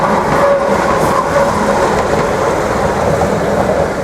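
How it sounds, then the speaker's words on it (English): An electric train on the line to Kurama, Japan, rumbles steadily along the track, a continuous loud running noise with faint squeals, no voices. "If you do, this is the train."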